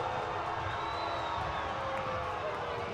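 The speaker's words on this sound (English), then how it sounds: "This crowd is not happy about it, Jake." A high school football crowd at Winton Woods versus King's in 2021 reacts unhappily to a penalty, a steady distant murmur of many voices filling the stadium without clear cheering.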